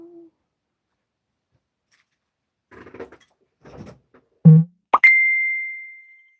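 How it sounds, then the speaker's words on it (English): A mobile phone notification chimes once: a single bright electronic ding that rings out and slowly fades, following a few soft scattered rustles and knocks in an otherwise quiet room. "Yes, my phone going off,"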